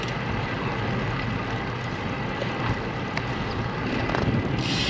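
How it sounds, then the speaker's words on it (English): Wind blowing steadily outdoors ahead of an approaching weather front, a continuous broadband rush with microphone buffeting, alone without voices and fairly loud throughout. "I can feel the wind has changed directions."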